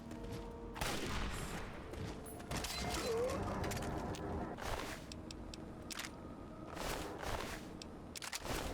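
Rockets fired in Fallout 3 during an explosives-only run, heard as repeated booming blasts and mechanical clanks spread across a dense, continuous game soundscape with no talking.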